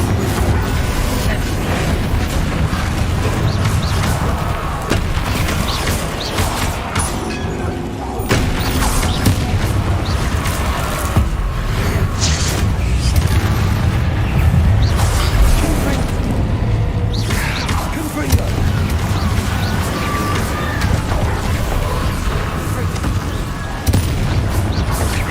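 Continuous heavy blasting from repeated Confringo spells in Hogwarts Legacy, a dense roar of booming explosions and rumbling with no clear gaps between hits, loud throughout.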